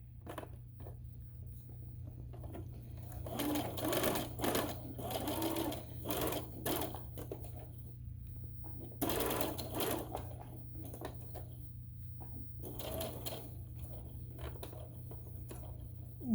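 A sewing machine back stitches a tote bag seam in short, quiet, stop-start bursts over a steady low hum, with small handling noises between runs.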